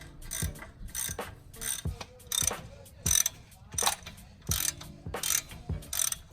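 A hand wrench cranks on the strut bolts of a Toyota Cressida, sounding as a series of sharp, close ratcheting clicks in quick bursts, about eight strokes with short pauses between them.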